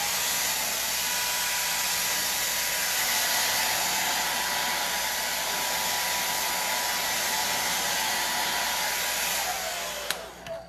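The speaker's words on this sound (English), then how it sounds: "the heat from the blow dryer" Blow dryer blowing hot air while making a rustic gift, a steady loud whirring hiss running unbroken for about ten seconds before it is switched off and winds down.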